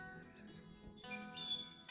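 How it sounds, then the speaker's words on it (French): Eurasian golden oriole singing on a countryside walking trail near Vézelay, a faint distant fluting call with a few short whistled notes over quiet outdoor background. "Ah, ça c'est un loriot."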